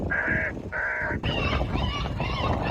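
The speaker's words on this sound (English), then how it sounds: "Using a huge scarecrow squawker on top of a ranger truck, they play recordings of birds in distress" A huge scarecrow squawker mounted on a ranger truck at Manchester Airport blasts recorded bird distress calls: two loud harsh squawks, then a run of wavering shrieking cries, all close and piercing, with no talk.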